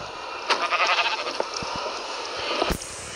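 Several short sheep bleats sound in a row, thin and nasal over a steady background hum of game audio.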